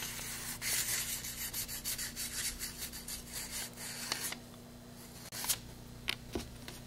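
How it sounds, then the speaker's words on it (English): Sandpaper rubbing back and forth along the cut edges of model rocket parts, a steady close scratchy rasping for about four seconds that then thins to a few scattered light scrapes and taps. "now we're going to clean up the edges with some sandpaper"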